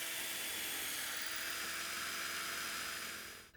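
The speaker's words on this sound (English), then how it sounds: "Next, I drill pilot holes through the stainless steel flange" A steady high-pitched drill whine grinding pilot holes through a stainless steel flange, continuous and close, ending abruptly.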